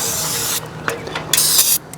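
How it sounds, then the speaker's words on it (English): Short bursts of brake cleaner spray hiss from a can, several quick blasts followed by a longer, louder spray near the end. "just gonna get some brake clean"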